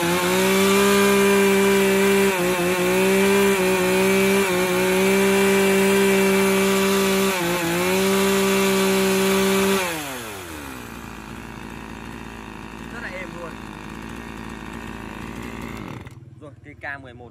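Engine of a used Japanese K11 chainsaw running on fuel mixed rich with oil: a loud, steady high rev for about ten seconds, then it drops to a lower idle before cutting off abruptly.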